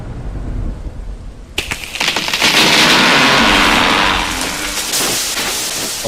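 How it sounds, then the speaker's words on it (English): Torrential rain pours during a Category 5 hurricane at night, a dense loud roar that surges in after a quieter opening, with a thunderous crash near the start and sustained heavy downpour and wind throughout. "Torrential rain."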